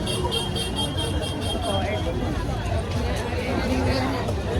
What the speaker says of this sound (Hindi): मैं अभी दादर स्टेशन पहुँची हूँ और यहाँ पे इतनी भीड़ है